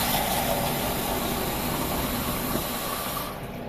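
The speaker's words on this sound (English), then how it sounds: "So let me get a cup of water here, because I've got 1 cup of sugar." Water pours steadily into a cup while lemonade is being made, a continuous rushing hiss that tapers off at the end, with no speech.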